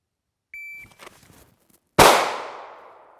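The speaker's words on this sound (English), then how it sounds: "Okay, so single shot." A single pistol shot at shooting practice: a brief electronic beep, a few faint sounds, then one sharp loud crack that rings out and decays over about a second.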